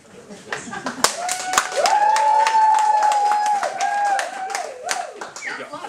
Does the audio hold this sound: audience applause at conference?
yes